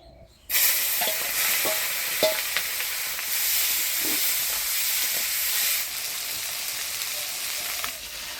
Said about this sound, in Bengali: এবার আমি মাছটা লবণ হলুদ দিয়ে মাইখে ভাজে নিব।